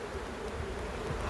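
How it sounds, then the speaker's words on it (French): Honeybees buzzing around an opened beehive during a hive inspection, a dense, continuous close-up hum with no break. "il y a des abeilles"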